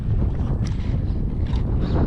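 Strong wind buffets the microphone in a continuous low, rumbling roar outdoors on a very windy day at an RC plane flying field, with no pauses or other sounds.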